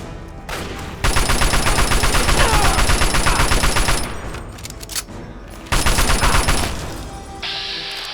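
Rapid automatic gunfire from a full magazine in the game Fallout: Tale of Two Wastelands, loud continuous bursts with a pause between them and a high tonal ring after.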